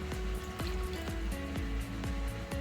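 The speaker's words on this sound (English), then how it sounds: "Add a bit of water and the 2 chipotle chilies." Water poured from a cup into a blender of chipotle sauce with chipotle chilies, a steady close liquid pour with gurgling splashes and a few clicks over the whole clip, no voices.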